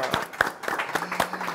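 A short burst of scattered hand clapping from a small church group, with a voice briefly over it.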